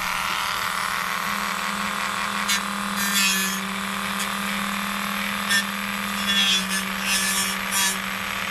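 Sandpaper rubs along the trimmed edge of a plastic Harley-Davidson Dyna motorcycle windshield in steady back-and-forth strokes, close and fairly loud over a constant low hum, with a few brighter scraping bursts.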